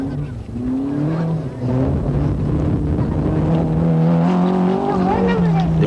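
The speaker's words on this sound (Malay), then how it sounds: "sebuah lagi kereta Suzuki Swift yang dipandu oleh Kenny Lam" A Suzuki Swift rally car drives a stage of the 1992 Malaysian Rally Championship in Negeri Sembilan, its engine note rising and shifting through gears close by, loud and continuous beneath a commentator's voice.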